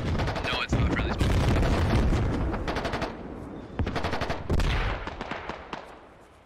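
Heavy SPG fire and rifle gunfire in the military shooter Squad, loud sustained automatic bursts layered with deeper booming impacts, coming in several waves before tapering off.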